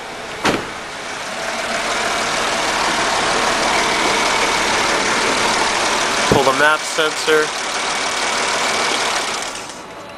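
A 1998 Mercedes E320 with a misfire idles in a steady, loud drone, and a sharp click is heard near the start; someone speaks briefly partway through.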